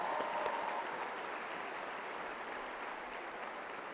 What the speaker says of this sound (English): Another round of applause for our faculty